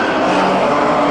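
Pre-1985 banger race cars roar off together at the start of an unlimited heat, a dense, loud, continuous engine roar with tyre noise and no voices.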